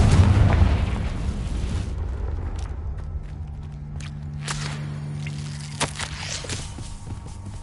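A Confringo fire spell in the Hogwarts Legacy video game lands with a loud, booming explosion at the start, then a rumbling tail of debris and crackle fading over several seconds, with no voices.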